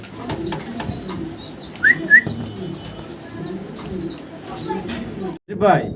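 Pigeons coo softly in a low, repeated rhythm, with occasional wing flaps and a brief chirp; a voice speaks near the end.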